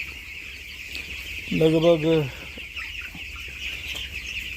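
Fourteen-day-old chicks on a poultry farm keep up a continuous chorus of high peeping, moderately loud, with someone briefly speaking over it.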